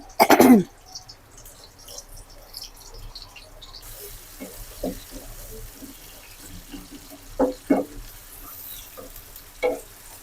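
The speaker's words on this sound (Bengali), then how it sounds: "আমি এতে সয়াবিন তেল দিয়ে দিলাম কিছুটা বা তেলের মধ্যে পরিমাণ মতো পেঁয়াজ কুচি দিয়ে দিলাম" Chopped onions hitting hot soybean oil in a pan give a sudden loud hiss at the start, followed by a faint steady sizzle with occasional clinks and stirring knocks.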